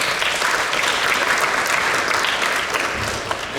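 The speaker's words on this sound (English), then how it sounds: "I want to just applaud." Audience applauding at a panel on social justice and engaged Buddhism at UC Berkeley, a steady dense clapping that holds evenly throughout the clip with no voices on top.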